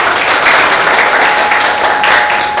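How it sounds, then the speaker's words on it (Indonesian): Applause from an audience at a Karang Taruna youth organization inauguration ceremony in Indonesia, steady dense clapping at close range throughout, with no talking over it. "Kita beri aplaus untuk beliau."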